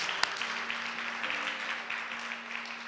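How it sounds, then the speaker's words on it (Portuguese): Applause from a church congregation at a Christmas service, steady clapping of moderate loudness with one sharp knock near the start and a faint sustained tone underneath. "Dê um aplauso àquele que nos mantém vivos."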